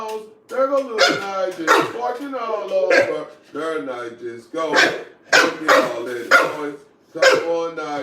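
Bully breed dogs barking repeatedly in irregular loud bursts throughout, close by, with a person talking between and over the barks.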